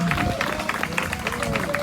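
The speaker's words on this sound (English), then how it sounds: "And give a round of applause." Outdoor crowd applause at a skateboarding rights protest in San Diego, scattered clapping mixed with cheering and chatter, a tonal whistle or squeak running through it, moderately loud and steady.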